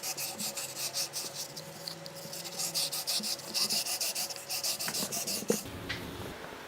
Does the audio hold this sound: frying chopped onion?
no